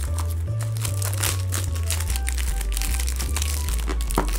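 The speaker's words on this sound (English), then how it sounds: "Get that plastic off for you." Plastic shrink wrap crinkling and tearing as it is peeled off a Nintendo Switch game box (The Messenger), close crackly rustles over a steady low electronic hum, with no talking.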